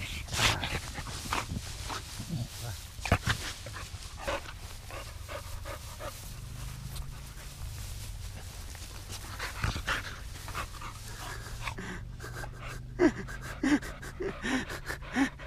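A dog pants rapidly and steadily close by, quick breathy huffs continuing throughout, with faint outdoor background noise and a few small knocks.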